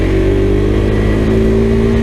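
Single-cylinder engine of a 2021 KTM 390 Adventure motorcycle revving hard under load while riding, a loud, steady, close drone with a climbing harmonic pitch and no voices.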